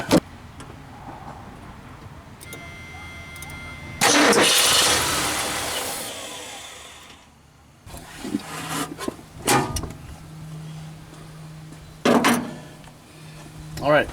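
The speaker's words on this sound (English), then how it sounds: "and then we'll be ready to crank over" A Ford F-250 truck engine with fuel poured into the carburetor cranks in several bursts, catches and roars briefly, then dies and cranks again, heard up close with some talk mixed in.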